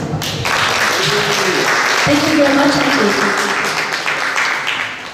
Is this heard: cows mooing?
no